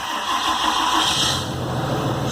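A 2016 Cummins diesel pickup truck engine cranks and fires on a cold start at zero degrees Fahrenheit, settling into a loud, steady running drone close by with no talking.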